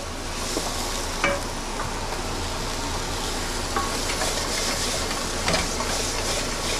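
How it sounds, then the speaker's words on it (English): Butter sizzling and frying in a hot pan alongside seared pork chops, a steady crackling hiss with occasional sharper pops and faint stirring scrapes. "Now let me add a little butter because that pan looks just a little bit dry."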